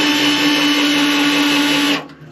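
A power drill drilling overhead into an AP Cobra kit car chassis whines steadily at high speed, loud and close, then cuts off abruptly near the end.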